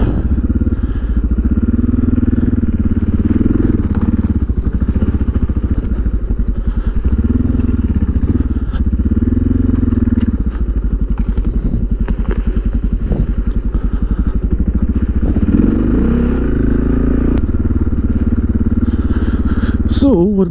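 A Suzuki DR650 motorcycle fitted with an FMF exhaust runs steadily throughout, its loud thumping single-cylinder note rising and falling as the rider works the throttle, with occasional rattles and a voice briefly heard over the engine.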